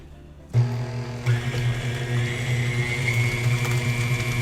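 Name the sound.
mixer blending eggs into Doritos cheesecake batter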